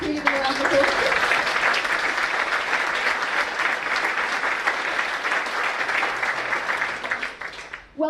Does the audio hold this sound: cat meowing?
no